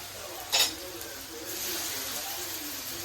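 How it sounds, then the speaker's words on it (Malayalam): Potato stir-frying in a pan for a Kerala-style mezhukkupuratti gives a soft, steady sizzle with a brief scrape of stirring near the start, heard fairly quietly and close up. "കിഴങ്ങ് ചേർത്ത് കൊടുക്കുകയാണ്."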